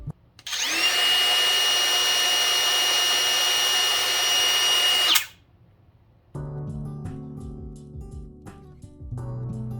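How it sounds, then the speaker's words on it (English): A DeWalt cordless router whirs at a steady high pitch for about five seconds, then spins down abruptly, followed by a short lull and a softer stretch of clattering, ticking handling sounds. "it's super quiet with this router"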